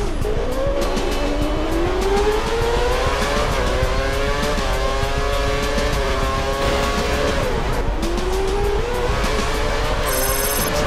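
A Formula racing car in a stunt driving game runs with a loud, continuous, high-revving engine whine, its pitch rising and falling with shifts and speed, under steady road noise.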